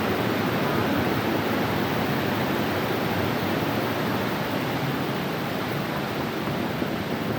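A strong river current rushes at Wawa Dam, a loud, steady, close roar of water with no break.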